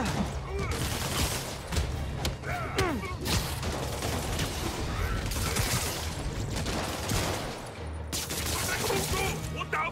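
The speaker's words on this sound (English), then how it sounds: "Damn, they shot the shit out of me." Enemy gunfire in Marvel's Spider-Man rattles on continuously as dense bursts and fusillades, loud and close, with a voice faintly mixed into the chaotic combat din.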